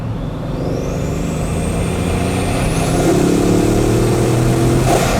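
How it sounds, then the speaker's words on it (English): A Bugatti Chiron hypercar accelerates with a continuous, rising engine and intake roar that grows louder and deeper over several seconds, heard from inside the car with no talking. "When you accelerate more, you really get the intake of the engine."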